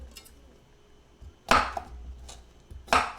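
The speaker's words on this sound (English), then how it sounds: "we're going to start chopping our other ingredients. So we've got a cucumber here." A knife chops a cucumber on a board, with two sharp, separated strikes about a second and a half apart and quiet pauses in between.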